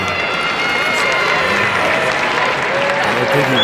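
Crowd at the NFL draft combine breaks into loud, sustained applause and cheering that fills the whole stretch, with voices mixed into the noise.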